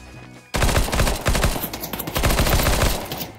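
Counter-Strike gunfire erupts after a quiet half second: rapid automatic bursts, loud and close, with sharp individual shots cracking in quick rhythm until the end.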